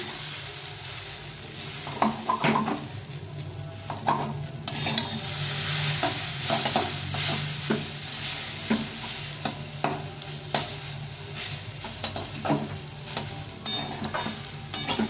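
Dry veg chowmein noodles fry in a little oil over low heat, with repeated scraping and tossing strokes over a soft continuous sizzle.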